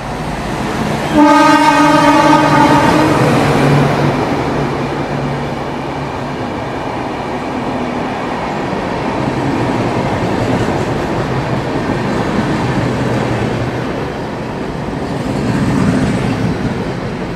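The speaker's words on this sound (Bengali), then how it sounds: "ট্রেন আমাদের এসে পৌঁছালো 10:22 বাগনান" A train pulls into Bagnan station, its horn blaring loud and close in a long harmonic blast. The heavy rolling rumble of the carriages follows and gradually settles as it slows.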